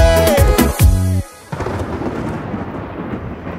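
Thunder from an approaching storm cuts in abruptly after music stops, a loud deep rumble that rolls on steadily with a crackling, rain-like wash.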